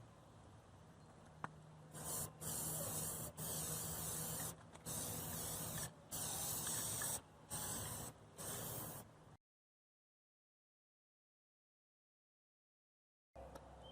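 Aerosol can of Plasti Dip sprayed onto faded side trim of a 2007 Ford Ranger in several hissing bursts of one to two seconds with short gaps, close and steady, ending in silence before a brief final spurt.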